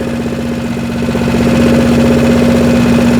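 Predator engine on a Harbor Freight wood chipper idles at its low setting, a loud, steady droning rumble with a fast even pulse, close by and continuous with no talk.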